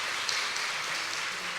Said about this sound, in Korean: 우리가 말씀을 듣고 있지만 그래도 우리 주은 형제 한번 박수로 한번 격려했으면 좋겠어요.